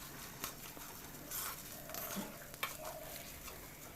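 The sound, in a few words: mashed boiled potatoes frying in a pan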